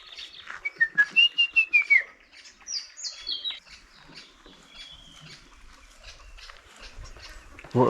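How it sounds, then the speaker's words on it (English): A run of rapid, rhythmic chattering chirps from a squirrel opens the clip, followed by high whistled calls and quieter scattered chirps in an outdoor setting in Hluhluwe-iMfolozi, South Africa. "it's a squirrel"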